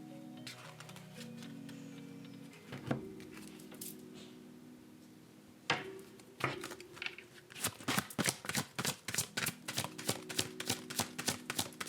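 A deck of oracle cards is shuffled by hand, first soft sliding and riffling, then a run of quick, crisp card slaps in a fast, even rhythm, close up, with a gentle musical drone underneath.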